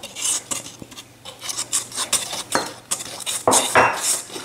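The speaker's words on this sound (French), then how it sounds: "nous mélangeons tous les ingrédients secs" Dry pizza dough ingredients with garlic powder and thyme stirred in a bowl, making close, irregular scraping and clinking strokes of a utensil against the bowl, with no one speaking.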